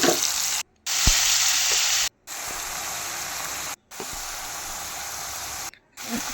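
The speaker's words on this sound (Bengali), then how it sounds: "এবার আমি পোস্ত আর কাঁচা লঙ্কা বাটাটা এর মধ্যে দিয়ে দিচ্ছি।" Poppy seed and green chili paste sizzles in a pan with pomfret and chopped tomato, a loud, continuous frying hiss broken by three or four short silent gaps.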